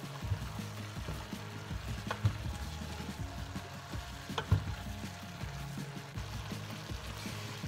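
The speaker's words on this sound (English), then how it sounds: "Give it a little stir." Keto low carb chili being stirred in a pot, with soft scraping and clinking strokes over a gentle simmering sizzle, a few sharper knocks standing out near the start and middle.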